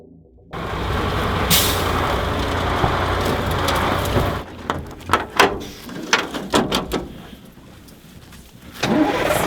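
A fuel tanker truck carrying 5.6 tonnes of fuel pulls up beside a Gepard anti-aircraft vehicle, its engine rumbling steadily and loudly nearby before it drops to idle, followed by clanks and knocks and a final rise in engine noise.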